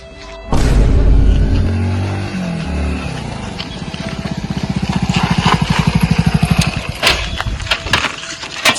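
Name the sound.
motorcycle engine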